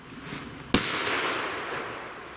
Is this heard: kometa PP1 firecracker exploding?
yes